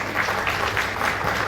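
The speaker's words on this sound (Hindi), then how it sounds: "जोरदार तालियां बजाकर स्वागत करें" An audience at an awards ceremony applauds steadily as a speaker is welcomed onto the stage, producing a dense, even wash of clapping from a distance that carries on without pause.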